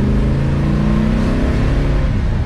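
A 1969 Chevrolet Chevelle SS muscle car with a 396 V8 drones with a loud, steady low-pitched rumble heard close up from inside the car, with no talk over it.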